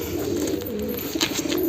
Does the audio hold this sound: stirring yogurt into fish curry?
no